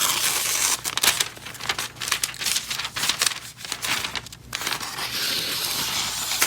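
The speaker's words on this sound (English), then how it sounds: "the first way I want to check is with the paper cut test" Dry crinkling and scraping as a very dull chef's knife drags through paper, with irregular bursts of rustling and tearing, close and moderately loud.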